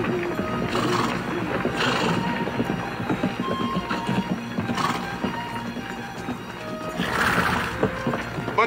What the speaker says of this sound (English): Bunch of horses coming this way from the river, Captain. Big bunch.